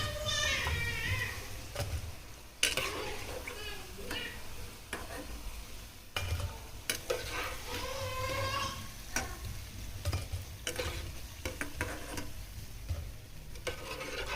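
Onion pakodi frying in hot oil, a steady soft sizzle with scraping and stirring sounds from a utensil, a voice speaking over it throughout.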